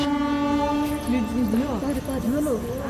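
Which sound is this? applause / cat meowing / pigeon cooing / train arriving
train arriving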